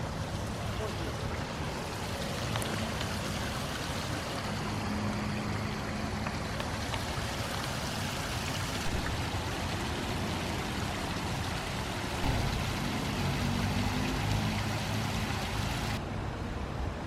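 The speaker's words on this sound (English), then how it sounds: "Listening to the cadence of water running down the rocks brings peace and comfort to many." Water running down rocks in a stream on a hike near Cleveland, Ohio, a steady broadband rush and trickle that stays fairly even throughout, close by with no other prominent sounds.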